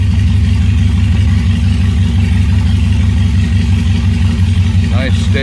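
A restored 1970 Opel GT engine idles steadily and loudly up close, a constant low rumble with a faint short sound near the end.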